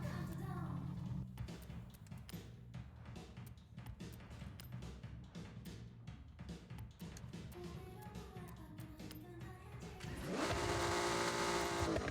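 Racing video game car engine and exhaust droning steadily with revving pulses and gear-change dips, rising to a louder, brighter roar near the end; no talk.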